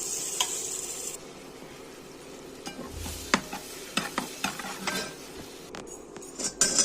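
Vermicelli roasts in butter in a pan while being stirred, with a low sizzle beneath irregular scraping and clinking strokes of a spoon, some sharper knocks near the end.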